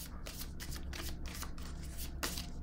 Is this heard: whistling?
no